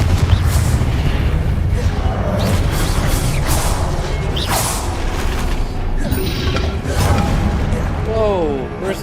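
Spellcasting in the Hogwarts Legacy video game ends in a Confringo explosion, heavy booms and mechanical crashes among busy combat effects, while voices speak over the fight.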